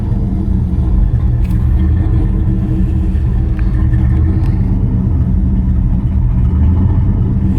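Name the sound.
1999-2006 Chevrolet Silverado truck engine idling unevenly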